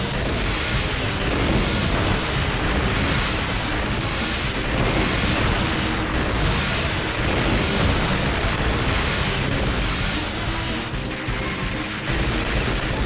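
Cannon fire and explosions from the Metal Slug arcade game come as a dense, loud, continuous barrage of booms and crashes lasting about 13 seconds, with no talking.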